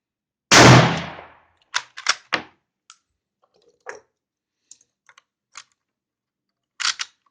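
Yugoslavian M48 Mauser rifle fired at an outdoor range: one loud, close report with a short decaying tail, followed by a series of sharp clicks and clacks from the bolt being worked.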